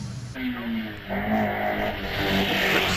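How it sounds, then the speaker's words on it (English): A 2-litre 1998 Ford Escort rally car makes a quick start at a Prescott rally stage. The engine is loud and close, revving hard and pulling away with rising pitch, and a voice is heard over it. "Quick start there for the 2-litre Escort."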